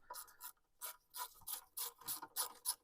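Close, quiet ratchet clicking in quick bursts, several short back-and-forth strokes as a bolt on a Cummins engine cover is turned loose.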